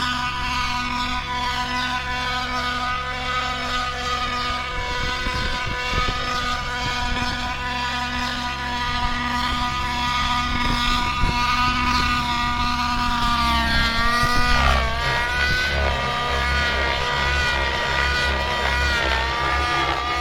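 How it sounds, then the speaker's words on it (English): The tail rotor of a gas-powered RC helicopter with a Vbar Evo controller runs with a steady droning engine whine whose pitch rises and falls as the rotor speeds up, loud and close throughout. "And this is the tail. You're able to kind of have full control over it, and you can speed it up slowly."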